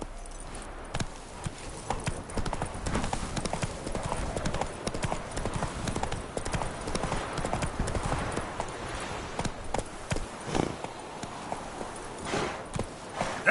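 Roach, a horse in the video game The Witcher 3, gallops at a steady clip-clop rhythm of hooves, close and continuous under dense game ambience, with a brief louder burst near the end.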